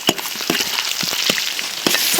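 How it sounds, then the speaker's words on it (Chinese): Oil sizzles in a wok as chopped scallion, ginger, garlic, dried chilies and Sichuan peppercorns fry, a steady crackling hiss broken by sharp pops and spatula scrapes. "锅里倒油炸料头"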